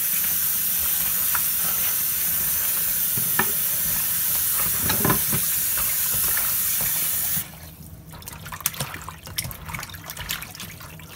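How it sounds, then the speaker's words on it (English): Running water splashes steadily over oxtail being washed, a continuous hissy rush with handling noises, then the flow cuts off abruptly and scattered wet clatters and drips follow. "I'm gonna go ahead and wash my oxtail very good"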